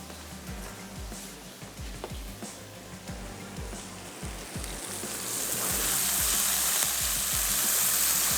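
Garlic and ginger paste hits hot oil in a pan, giving a steady, soft sizzle with intermittent scraping stirs that grows into a brighter, fuller hiss toward the end.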